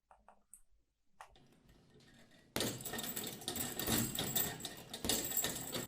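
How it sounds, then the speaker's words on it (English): A metal chain sound effect prepared for an action fight scene, rattling and clinking in a few light bursts before swelling into a loud, dense, continuous jangling that carries on to the end. "I also went ahead and got a chain sound effect"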